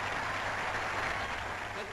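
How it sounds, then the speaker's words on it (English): A crowd applauding Warsaw Pact delegates, including China's Defense Minister Peng Teh-huai and Russia's General Zhukov, in a steady, moderately distant wash of clapping under faint narration. "clapping and being clapped."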